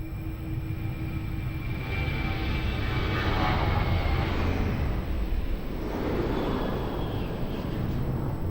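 A Ryanair Boeing 737 at Lisbon Airport on runway 02 produces a broad, steady jet roar that swells and then eases, heard from a distance with no voices.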